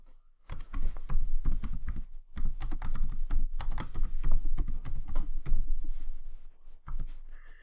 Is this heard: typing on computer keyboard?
yes